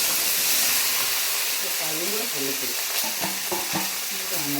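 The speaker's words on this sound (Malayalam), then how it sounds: "നമുക്ക് ഈ വെണ്ടയ്ക്ക് ഒന്ന് വഴറ്റിയെടുക്കാം ഇത് ഞാനിവിടെ എണ്ണയൊക്കെ ചൂടായിട്ടുണ്ട്" Okra being sautéed in hot oil in a pan, a dense loud sizzle throughout with rhythmic scraping stirs, and a voice murmuring faintly underneath.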